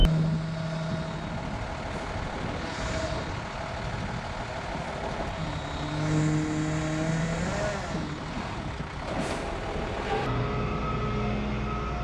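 A tow truck wheel-lifts an Acura Integra, its diesel engine droning steadily throughout with whining hydraulic tones, beeps and clanks from the lift rising and falling over the rumble.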